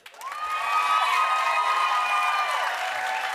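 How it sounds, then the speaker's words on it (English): A television studio audience cheers and claps for a dating-show contestant, a quick burst of whoops and high shouts rising over steady clapping and holding for a few seconds before easing slightly. "clap if you think it ought to be Saul."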